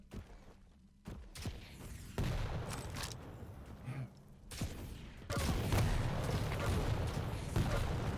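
Shotgun blasts and gunfire in a Quake Champions tournament match, several sharp bursts and booming shots in irregular succession with steady game noise between.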